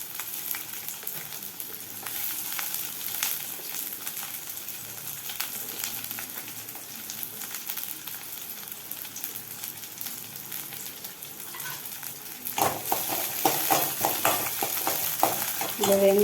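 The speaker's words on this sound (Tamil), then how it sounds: "வெங்காயமும் வெள்ளைப்பூடும் நல்லா வதங்கிடணும்." Onion and garlic sautéing in a pan for a dried-fish thokku, with a steady low sizzle and occasional stirring scrapes that grow louder and busier near the end.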